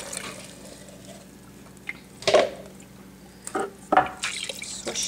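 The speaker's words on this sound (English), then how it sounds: "Swish it around, real simple." Rinse water swished around alfalfa sprouts inside a jar, heard as a few separate close sloshes and drips over a quiet background, with no talk.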